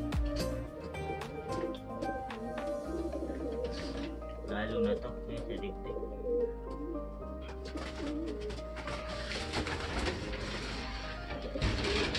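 Racing pigeons coo steadily in a club loft during training in Muñoz, Nueva Ecija. The soft, low calls overlap through the clip while people talk nearby.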